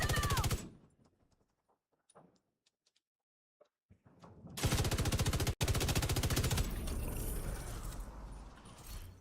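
GR9 light machine gun firing in The Division 2, a loud sustained burst of rapid automatic fire after a quiet stretch of faint game sounds and clicks, with a brief cut in the middle.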